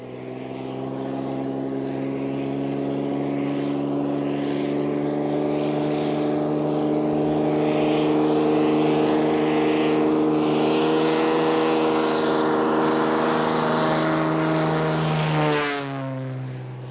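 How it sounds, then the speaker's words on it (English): An agricultural propeller plane makes a downwind takeoff from ground level, its engine droning loud and steady, rising in pitch as it powers up, then cutting off near the end. "Let's now have a look at a downwind takeoff from ground level."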